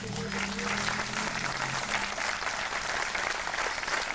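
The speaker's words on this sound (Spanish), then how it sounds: "a quien le pido un fuerte aplauso" A crowd at a health centre's thirtieth-anniversary ceremony gives warm applause, a loud sustained roar of clapping with a low tonal hum and faint voices underneath early on.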